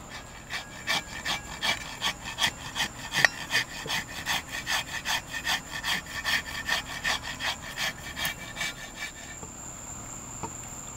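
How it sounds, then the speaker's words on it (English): A wooden axe handle being smoothed by hand, rhythmic scraping strokes repeating steadily about twice a second, close and fairly quiet, ending in a brief pause. "I'll finish up this handle now. Smoothing this out."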